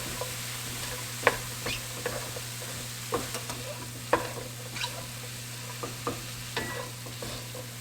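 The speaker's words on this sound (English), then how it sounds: "Now we're gonna add in our red peppers and our yellow onion. And give this a good stir." Red peppers and yellow onion stirred in a pan for chicken lettuce wraps: a steady low sizzle runs throughout, punctuated by a dozen or so sharp scrapes and clicks of the utensil against the pan, with no talking.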